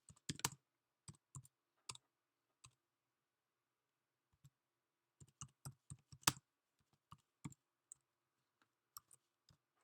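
Typing a terminal command on a computer keyboard: sparse clusters of crisp, close key clicks with short pauses, in an otherwise silent room, with no speech.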